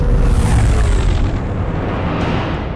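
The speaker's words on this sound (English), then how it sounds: "Enemy is firing. Turbo lasers, missiles, and what looks like transport pods." Starship turbo lasers and missiles fire in a space battle in Star Wars: The Old Republic, a loud continuous rumbling barrage of booms that thins slightly toward the end.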